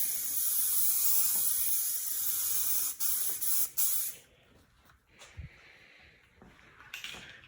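A spray can hisses out metal flake car paint in a long, loud continuous burst, then a few short sprays, followed by quiet handling noises and one more brief spurt near the end.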